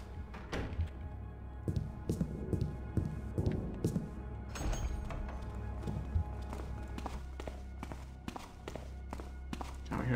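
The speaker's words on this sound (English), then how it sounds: "Now we're hearing some more footsteps." Footsteps thud across a wooden floor in the stealth game Thief, with irregular clumping steps, some heavy and close, others lighter, over a low steady hum.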